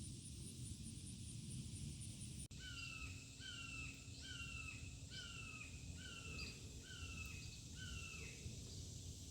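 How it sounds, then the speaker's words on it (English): A series of about eight harsh, down-slurred red-tailed hawk calls repeats at a steady pace, somewhat distant, over a low rumbling background. "Can't see, but that is the sound of a red-tailed hawk"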